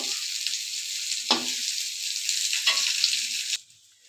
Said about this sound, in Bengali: এবার আলু ফুলকপিটা ভালোভাবে ভেজে নেব